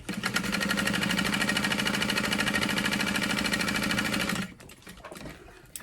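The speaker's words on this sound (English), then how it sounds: "Helps if you turn on your sewing machine." A sewing machine stitches at a fast, steady rhythm for several seconds, then stops abruptly, leaving quieter handling noise.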